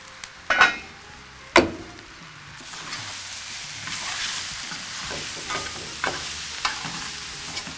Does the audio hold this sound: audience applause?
no